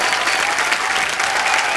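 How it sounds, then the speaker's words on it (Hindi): A studio audience at a comedy talk show greets a guest with loud, dense, continuous applause that stays steady and close throughout, with no speech over it. "तालियां जोरदार होनी चाहिए"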